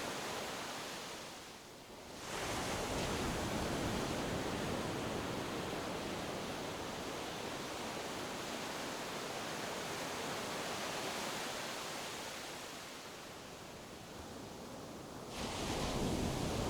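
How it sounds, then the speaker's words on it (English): Soft ocean waves wash steadily onto the shore at Unawatuna, Sri Lanka, a continuous gentle surf hiss that swells slightly near the end, with no voices. "Begin with soft waves lapping the shore,"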